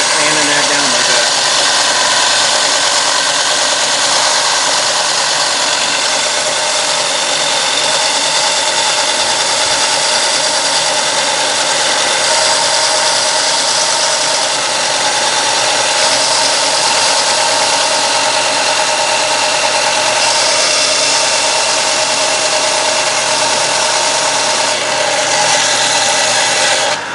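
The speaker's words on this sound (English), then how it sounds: "We'll start sanding that down like that." A power sander whirs continuously at close range on a taxidermy manikin while fitting horns, a steady high buzzing hiss with slight variations as it grinds against the surface.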